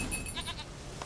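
A goat in The Witcher 3: Wild Hunt gives a short, close bleat with a wavering, tremulous tone, heard alone over a low game background.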